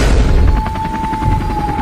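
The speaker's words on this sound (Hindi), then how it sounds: "हेलीकॉप्टर तो बहुत ऊपर आ गया है।" A helicopter flies high above a village: steady loud rhythmic rotor chopping over a constant engine whine and heavy low rumble, continuous throughout with no talk.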